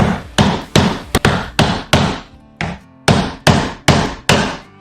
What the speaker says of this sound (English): I'm just gonna chisel this out.